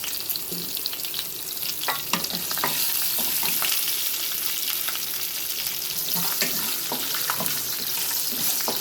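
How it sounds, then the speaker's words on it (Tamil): Garlic cloves and curry leaves temper in hot oil for a turkey berry vatha kuzhambu, a constant hissing sizzle with occasional spoon clinks and stirring scrapes close by. "பூண்டு பல் கருவேப்பிலை எல்லாம் போட்டு நல்லா தாளிச்சிக்கலாம்"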